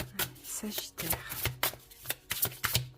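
Tarot cards are shuffled by hand in a quick run of crisp, riffling flicks and taps, close and fairly soft, with no voice over them.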